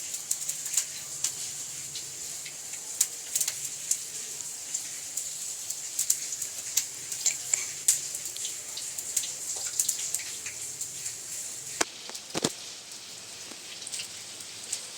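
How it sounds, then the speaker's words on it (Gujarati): Village rain falling outdoors during cooking of stuffed chilli bhajiya, a steady light patter with scattered sharp drops and a few louder splashes near the end, no talk. "પાછો તમે જુઓ કેવો સરસ વરસાદ આવી રહ્યો છે"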